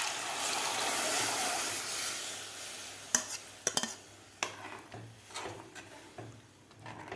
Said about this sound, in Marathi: व्यवस्थित हलवून घ्यायचं आपल्याला.